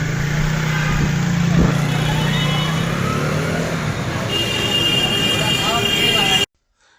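A modified Zongshen 100cc cafe racer motorcycle runs at a steady idle with a low, continuous drone, and voices talk over it before the sound cuts off abruptly.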